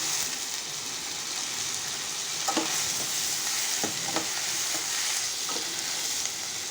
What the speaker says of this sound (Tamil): அதையும் இது கூட சேர்த்து நல்லா வதக்கி எடுத்துக்கலாம்.